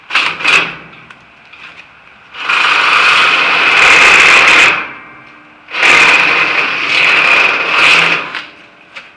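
A power drill bores into the steel side rails of a flatbed on a 2022 Ford F350, two long loud whirring bursts of several seconds each, preceded by a few short clicks and handling knocks, with no talk.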